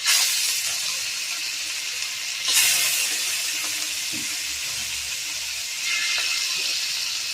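Masala fish frying in hot oil in a pan: a steady, loud sizzling hiss that swells in bursts at a couple of points, heard close and alone.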